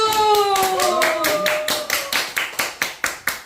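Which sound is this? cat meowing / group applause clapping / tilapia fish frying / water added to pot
group applause clapping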